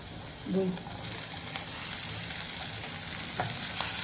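Garlic, capsicum and onion frying in a pan, a close, steady sizzle with occasional stirring clinks and a brief voice early on.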